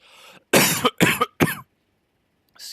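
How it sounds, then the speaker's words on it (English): A person breaks into a coughing fit: three loud, harsh coughs in quick succession, a short pause, then a fainter cough trailing off, close to the mic. "I just had a coughing fit."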